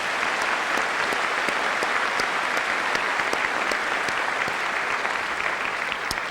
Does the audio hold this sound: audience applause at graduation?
yes